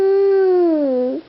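A young child imitates a cow with one long sustained "moo", loud and close, the voiced tone holding steady before sliding downward and cutting off after about a second.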